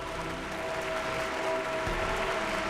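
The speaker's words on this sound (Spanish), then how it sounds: "la muchedumbre aplaudía a rabiar" A large crowd applauds wildly at a celebration for Our Lady of Guadalupe. The clapping forms a dense, steady roar that holds through the whole stretch, with no talking.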